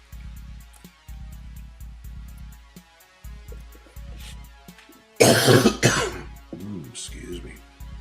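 A person's loud, harsh cough and throat clearing, a dense burst midway followed by a few smaller rasping clears, rising over a steady low hum and broken stretches of background noise.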